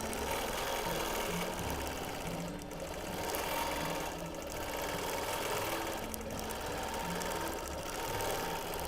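A sewing machine stitching free motion quilting in a mod boxes pattern, a continuous fast mechanical whir with a rapid needle rhythm, close up, easing slightly at brief moments without stopping.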